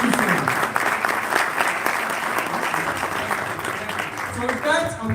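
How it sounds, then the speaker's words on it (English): An audience applauds steadily and loudly at a Chicago chamber of commerce anniversary gala, honoring a guest on behalf of Reverend Jesse Jackson; sustained clapping fills the room, with a voice starting to speak near the end. "please give her a round of applause"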